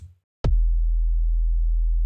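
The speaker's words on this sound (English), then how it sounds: "by default, operator is a simple sine wave" Sustained low sine-wave note from the Operator synth in Ableton Live, with a brief attack click at onset and then a steady, pure bass tone holding alone at constant level.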